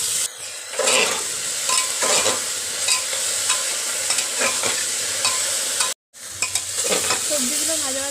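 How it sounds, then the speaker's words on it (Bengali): Mixed vegetables frying in a pan with a little salt, stirred with a spoon in a village kitchen: a steady sizzle under repeated scraping strokes, one brief break in the middle, with no talking. "দিয়ে একটু নেড়ে নেবো ভালোভাবে"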